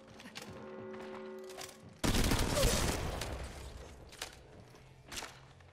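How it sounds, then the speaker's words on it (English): Burst of gunfire in the mobile battle-royale game Apex Legends Mobile, a loud sustained volley lasting a couple of seconds amid game sounds, with a few sharp single shots trailing after it. "Opening fire on the enemy."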